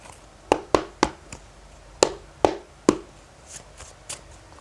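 A deck of cards is shuffled and tapped during a tarot reading, a handful of sharp, separate snaps and taps with short pauses between them, close and otherwise quiet.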